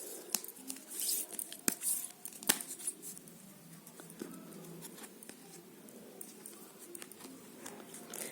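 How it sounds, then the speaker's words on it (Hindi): A tarot card deck being shuffled by hand: soft, faint riffling and brushing of cards with sharp ticks and taps scattered throughout, close and quiet, with no talk. "हमेशा डेक को शफल करते वक्त ध्यान रखिए कि डेक को बहुत स्मूथली इस तरह से शफल करना चाहिए"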